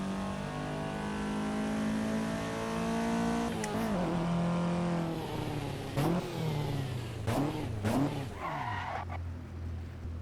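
A stock Toyota AE86 in a racing video game revs hard through the gears, its engine note climbing and dropping with tire skids and squeals as it corners, loud and close with no talk over it.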